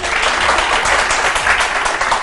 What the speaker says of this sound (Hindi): तालियां बजानी है